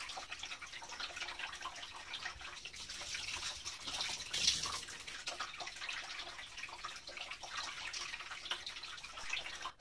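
Running tap water splashing steadily as a face and sponge are rinsed, a continuous close hiss with small splashes and drips and no talk.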